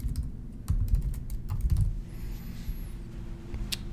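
Brisk typing of a name and an email address on a computer keyboard, with a rapid patter of key clicks in short runs that then trail off, close and clear, with no talk.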